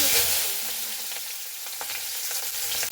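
Potatoes fry in hot oil seasoned with five-spice, giving a loud, continuous sizzle with light stirring clicks and crackles throughout, alone with no talk.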